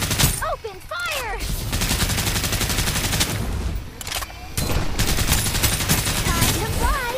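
Dense game gunfire from the shooter Farlight 84 rattles through most of the stretch in rapid bursts, with short gaps, chirping whistle-like effects and brief voice lines layered in.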